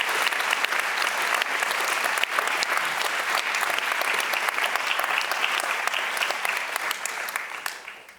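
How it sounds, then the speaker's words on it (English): An audience claps for the panelists at the close of a public talk on the International Criminal Court, a dense, steady round of applause that holds for several seconds and then tapers off. "I think they deserve another round of applause."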